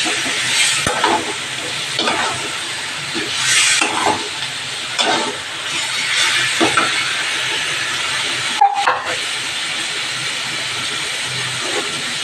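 Pumpkin greens cooking with fish in oil, seasoned with turmeric and salt, with a splash of water added: a loud, steady sizzle and hiss in the pan close by, broken by periodic scraping stirs.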